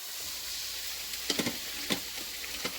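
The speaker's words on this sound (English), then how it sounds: "In here, I'm sauteing onions and garlic." Onions and garlic sauté in a pan with an even, steady sizzle, broken by a few light knocks and scrapes from stirring.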